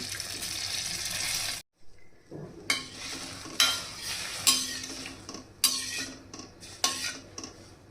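Water poured from a vessel into soaked samak millet in a cooking pot, a steady splashing pour that breaks off in short repeated bursts, close and fairly loud with no voices.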